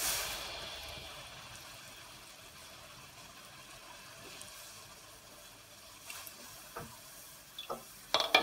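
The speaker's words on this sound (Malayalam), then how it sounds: "നമുക്കെടുത്ത് വറുത്ത് തുടങ്ങാം." Achappam batter fries in hot coconut oil, a steady soft sizzle that fades slightly, followed by a few sharp metallic clinks of the mould near the end.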